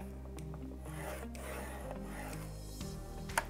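Paper being scored for a mini album, a few soft scraping strokes against a steady low hum, faint and close, with one small tap near the end.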